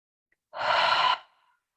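One slow, deep breath out through the mouth, a soft airy exhale heard up close in a quiet space with no talking.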